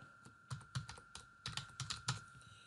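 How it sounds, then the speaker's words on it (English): Crisp, irregular keystrokes on a computer keyboard while someone fills in a field in database software, about a dozen taps close up with no other sound. "I'm just going to type ID, capital ID, in the name field"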